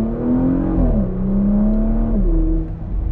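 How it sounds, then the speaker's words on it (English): A 2020 Porsche Macan Turbo with a 2.9-liter twin-turbocharged V6 holds a loud, droning exhaust note that dips and climbs through a gear change, with rough burbling crackle near the end, close and alone. "The backfires are awesome."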